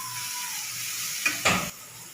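Cooked rice is tipped into a spinach mixture sizzling in a pan; a steady frying hiss swells into two brief louder bursts as it lands, then settles back.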